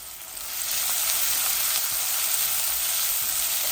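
Onions drop into a pan of frying leafy greens and sizzle steadily, a close, loud, continuous hiss that swells after the first half-second and holds without talk.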